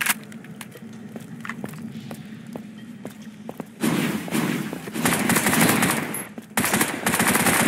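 Gunfire in the video game Bright Memory: scattered single shots and thuds at first, then sustained, loud machine-gun bursts that keep going almost without pause.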